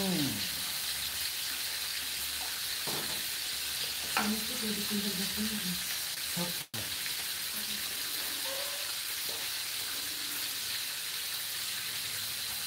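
Catfish frying in a pan gives a steady, broadband sizzle through the whole stretch, with faint clinks and scraping sounds now and then near the start.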